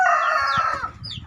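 A rooster crows loudly and close, a single drawn-out call that trails off, with faint clucking underneath, in a chicken coop.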